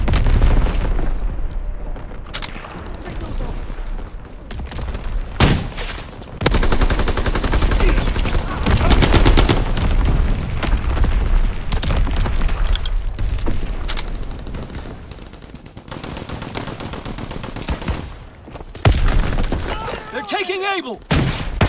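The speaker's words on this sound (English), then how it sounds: "Incoming enemy artillery." Enemy artillery and gunfire in the World War II shooter Call of Duty: WWII: loud, dense bursts of shots and booming impacts roll on almost without a break, with sharp blasts standing out near the start and the end.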